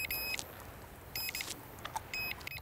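Several short, high electronic beeps in quick clusters from a cheap drone signalling that it is recording, repeating intermittently over a faint background hiss.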